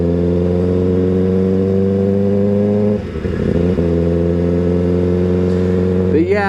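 A Kawasaki ZX6R or ZX4RR sport motorcycle engine roars steadily and loud and close, briefly dips, then climbs back up into a strong revving note.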